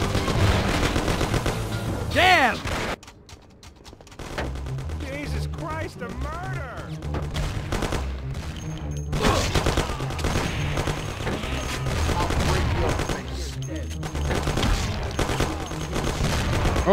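Gunfire bursts from the video game Mafia, rapid automatic shooting mixed with game music and shouted voices, loud and continuous for most of the stretch with a brief quieter gap early on.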